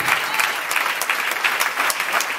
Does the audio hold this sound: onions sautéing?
no